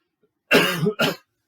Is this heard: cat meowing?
no